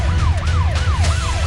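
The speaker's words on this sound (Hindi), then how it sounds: "पुलिस की गाड़ियों के सायरन की आवाज रात के सन्नाटे को चीर रही थी।" Police vehicles in north-east Delhi sound a wailing siren late at night. The pitch sweeps up and down in a fast repeating cycle, loud and close over a low engine rumble.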